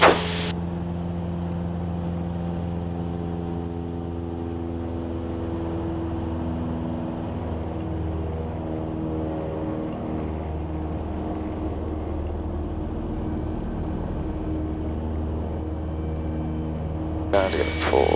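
Single aircraft engine run up to full throttle during a training flight, a steady loud droning hum with strong harmonic tones holding throughout, heard from inside the cabin under a voice speaking.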